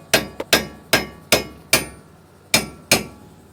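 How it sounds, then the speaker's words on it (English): A hammer chips welding slag off a cheap batwing bush hog, seven sharp metallic strikes at an uneven pace, each ringing briefly, close and loud with no talking. "Trying to chip some of this slag off of here."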